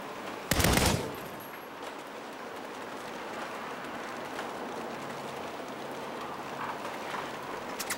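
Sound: gunfire in Saints Row video game

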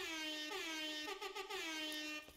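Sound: air horn emote, video game

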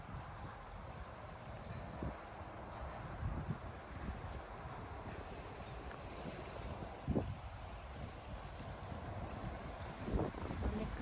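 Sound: wind blowing outdoors

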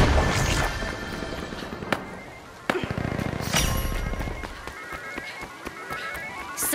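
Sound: grenade explosion in video game The Finals

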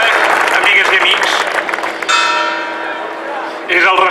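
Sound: church bells ringing in town square

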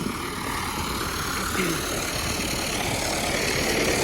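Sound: tractor engine running

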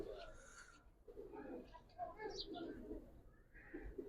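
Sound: giribaz pigeon cooing

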